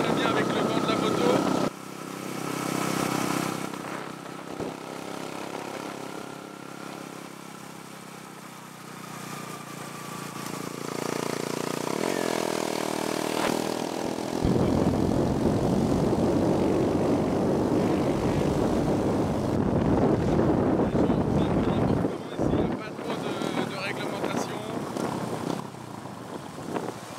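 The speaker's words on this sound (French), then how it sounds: "je sais pas si on entend très bien avec le vent de la moto" Wind roars over a motorcycle ride in the Dominican Republic, a steady broadband rush with engine drone beneath and brief gusty bursts, while a voice talks intermittently over the noise.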